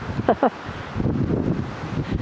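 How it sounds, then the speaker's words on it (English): Wind rumbles and buffets the microphone with a low rushing noise, following a brief vocal sound at the start. "Oh, it's windy."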